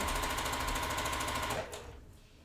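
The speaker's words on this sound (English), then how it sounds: "now we're going to sew down that raw edge" A home sewing machine stitches down the raw edge of a quilt seam, its steady rapid whirring running up close for about one and a half seconds before slowing and fading out.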